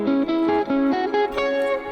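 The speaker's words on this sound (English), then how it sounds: "Here's the pentatonic with the pattern that Mateus is using" An electric guitar with light effects runs a patterned pentatonic phrase in quick successive picked notes, close and clear, steady rhythm with no talking.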